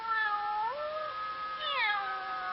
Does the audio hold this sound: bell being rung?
no